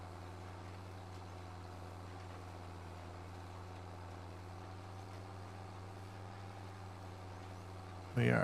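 Steady engine drone from a junky blue tractor in the farming game Farming Simulator 25, a constant low hum with strong harmonics holding evenly throughout, ending in a brief louder burst at the very end.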